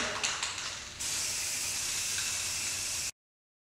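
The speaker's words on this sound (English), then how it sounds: "give it a quick spray of paint" A spray paint can sprays a sign outdoors: a few short spurts give way to one steady, loud hiss lasting about two seconds before stopping abruptly.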